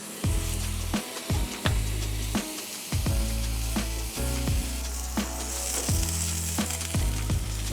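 Burger patty pucks topped with onion sizzling on a Blackstone griddle while being smashed flat, a loud continuous fry with repeated heavy scraping thuds and metallic clatter at a fairly even pace.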